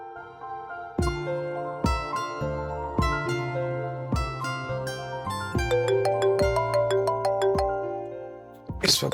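A phone ringtone plays a bright, repeating chime melody of tonal notes in a steady rhythm, loud and close with nothing else over it.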